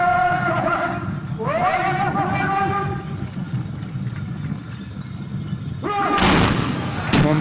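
A sharp volley of musket shots bursts out near the end of a tbourida horse charge at Dar Salam, Morocco, in 2007. It follows a stretch of steady crowd noise and tonal calls, and the blast is loud and close.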